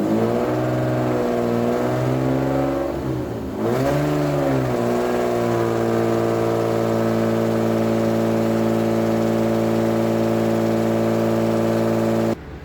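A 2500cc car engine runs on a dynamometer at moderate RPM, holding a loud, steady hum with clear harmonics after a brief throttle dip and recovery partway through, then sustaining an even drone until it cuts near the end.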